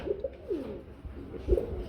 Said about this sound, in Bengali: এটা কি কবুতর ভাই শর্ট ফেস কবুতর